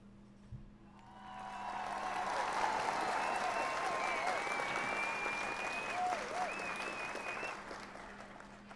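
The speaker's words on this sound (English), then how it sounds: "I'm doing a round of applause. So while you're fixing stuff, it's like, woo, like people clapping." Applause sound effect played from a soundboard button: a crowd clapping and cheering that swells in after a second, holds steady for several seconds, then tapers off, with a faint voice underneath.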